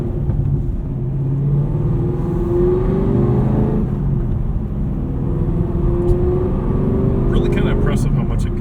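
A modified 2022 Camaro SS 1LE V8 in its quiet exhaust mode gives a low, steady rumble with mild rises in pitch, heard up close while people talk over it.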